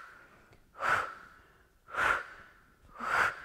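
Three forceful breaths pushed out during a Pilates mat exercise, each a breathy burst about a second apart, close and clear, with no talk in between.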